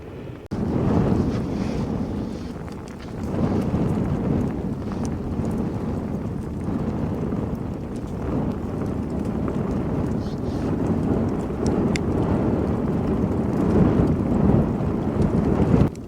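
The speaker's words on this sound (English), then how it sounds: "That wind is picking up a bit, I tell you what." Strong wind blows constantly at a below-freezing winter campsite, buffeting the microphone with a dense rushing roar that swells and eases for the whole stretch.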